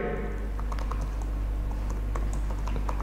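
Someone types code on a computer keyboard, with rapid, uneven key clicks close by over a steady low background hum.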